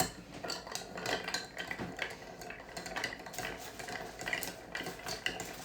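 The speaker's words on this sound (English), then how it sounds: "So when you're stirring down a cocktail, you're not really agitating it." Ice clinking and scraping against a glass as a cocktail is stirred down with a bar spoon, a steady run of light metallic and glassy ticks close by with no talking.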